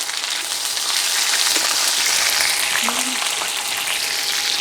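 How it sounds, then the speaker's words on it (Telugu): Peanuts and curry leaves fry in hot oil for Telugu lemon rice, giving a steady, dense sizzle that holds evenly throughout, with a few faint clinks over the hiss. "ఇప్పుడు ఇందులోనే మనం తీసుకున్న పల్లీలను కూడా వేసి బాగా ఫ్రై చేసుకోండి"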